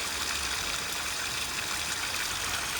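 Spring-fed pond water drains steadily through a culvert under a rural homestead property in Western North Carolina, making a continuous close rushing, trickling flow with no pauses.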